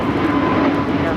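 A plane's jet engines roar steadily during takeoff at Los Angeles LAX airport, a continuous broad rumble filling the moment, loud and unbroken.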